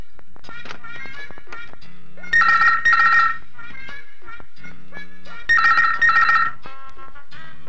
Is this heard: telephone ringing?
yes